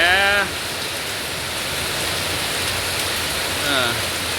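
Heavy afternoon rain hisses steadily throughout, while brief voices or chirpy tonal sounds rise at the start and near the end over the downpour.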